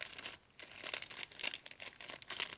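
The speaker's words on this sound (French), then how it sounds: "J'arrive pas à ouvrir le paquet." Crinkly plastic packaging of jewelry head pins meant for dangle earrings, crackling and rustling in bursts as fingers twist and pull at a stubborn packet, close and fairly loud with no talk.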